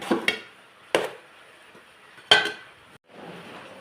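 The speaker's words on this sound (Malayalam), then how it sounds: "ഇളക്കിക്കൊണ്ടിരിക്കുവാണ്" A spoon stirring food in a cooking pot makes a few sharp, separate clanks against the metal, spaced well apart, followed by a soft shuffling scrape.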